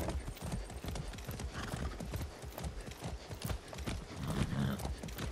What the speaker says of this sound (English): Horse riding action, guys.